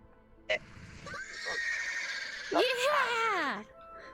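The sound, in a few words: horse neighing in a video game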